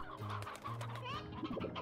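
Chickens cluck in the farming video game Slime Rancher, a short burst of clucks and squawks at moderate, steady loudness with no talking.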